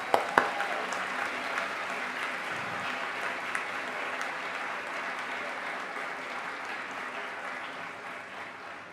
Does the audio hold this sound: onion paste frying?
no